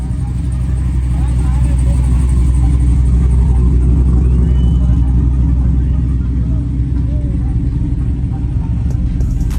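Lowered trucks pull up at a truck meet, their engines making a continuous deep rumble that stays loud and close throughout, with people talking over the noise.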